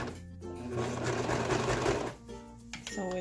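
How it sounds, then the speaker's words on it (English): A sewing machine stitches a cotton round, running steadily and loudly for about two seconds before slowing, pausing and briefly starting up again with short bursts. "And then sometimes I will lift my presser foot to re-situate it."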